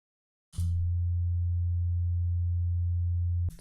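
An F sub-bass tone from an Ableton Operator synth starts with a click, then holds a pure, very low, steady drone at constant loudness for about three seconds before stopping abruptly.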